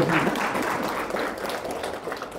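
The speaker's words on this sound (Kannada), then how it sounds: "ದಯವಿಟ್ಟು ಚಪ್ಪಾಳೆ ಹೊಡೀರಿ" Audience applause at a celebrity film premiere show, a steady wash of many hands clapping throughout, fairly loud and close, fading slightly toward the end with no talk over it.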